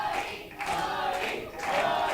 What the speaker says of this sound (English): Crowd trying to get Brent Money Banks back into it.